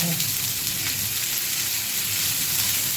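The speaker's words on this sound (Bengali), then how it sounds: "রসুন আর পেঁয়াজের সাথে একসাথেই তিন থেকে তিন মিনিট মতো ভাজবে" Garlic and finely chopped onion fry together in a pan over medium heat for pasta with radish greens. A loud, continuous sizzle runs steadily throughout, with no talking.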